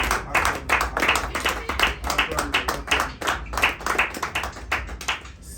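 A church congregation at a French-language Friday service claps together in a steady, fast rhythm of many sharp hand claps, loud and close, with a scattering of voices mixed in.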